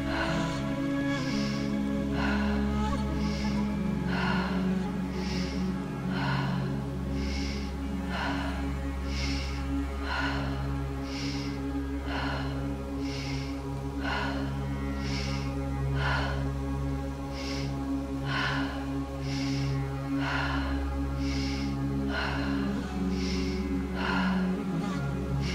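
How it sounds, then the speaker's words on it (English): Breath of fire breathwork: quick, rapid exhales through the nose repeat in a steady, even rhythm throughout, each a short puff over a continuous low drone. "Breath of fire. Quick, rapid exhales through the nose and your stomach pumps."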